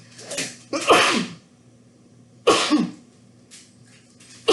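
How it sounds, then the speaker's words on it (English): Several loud sneezes in a row, close and sharp, separated by short pauses of quiet breathing. "Sneeze to the truth"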